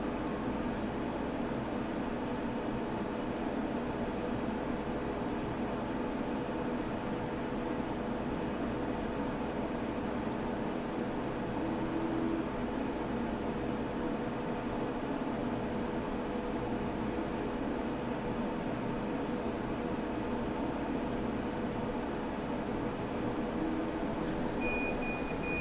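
A laser cutter running a program on closed cell foam to cut speaker gaskets gives a steady, unbroken machine hum with fan noise, constant in level throughout with no talk.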